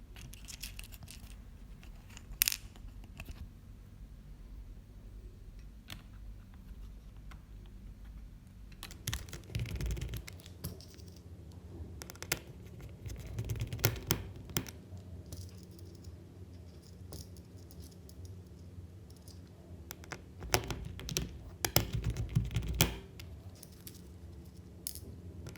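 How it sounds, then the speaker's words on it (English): A Phillips screwdriver driving four tiny P0 screws into the touchpad bracket of an HP Chromebook 11MK G9 laptop, with faint scattered clicks and small metallic rattles, quiet and intermittent, busier toward the middle and end. "grab your Phillips screwdriver again and replace the 4 P0 Phillips head screws that secure the touchpad bracket to the top cover"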